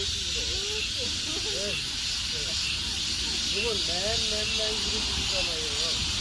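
A dense, steady buzzing chorus of cicadas fills the air along a metasequoia-lined trail, loud and continuous, with people chatting faintly underneath.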